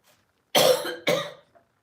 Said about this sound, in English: I coughed in your ear.